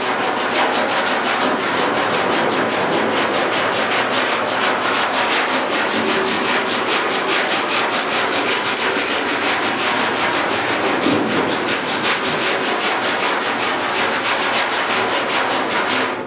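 Steady back-and-forth rubbing of 40 grit sandpaper on the cab bodywork of a 1956 Mercury, a continuous close scratchy hiss with fine rhythmic strokes lasting throughout, no talking.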